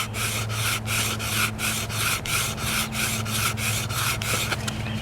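Rapid rhythmic sawing of a bamboo fire saw, a dry rasping scrape of bamboo on bamboo repeating about three times per second, close and steady, over a low constant hum.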